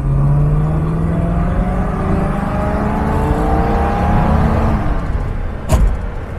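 A 1957 Ford Thunderbird's engine heard from inside the cabin, a loud droning hum with rising pitch as it pulls, then a sharp crack near the end.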